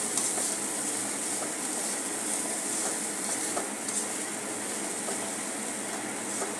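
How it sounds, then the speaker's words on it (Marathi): Chili flakes and kasuri methi being sautéed in a pan, a continuous soft sizzle with faint stirring sounds beneath it, fairly quiet and without speech. "आता हे चांगल्या प्रकारे आपण परतून घेऊया।"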